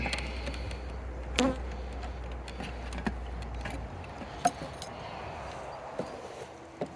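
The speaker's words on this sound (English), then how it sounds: "We'll actually let the bees kind of work themselves out." Honey bees buzzing during a package bee install, a faint steady drone with a few light clicks and knocks from handling the equipment nearby.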